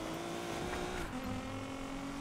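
Car drifting in the Need For Speed Payback racing game, a continuous engine drone with a steady tone that drops in pitch partway through, mixed with a tire-squeal hiss, fairly quiet and without talking.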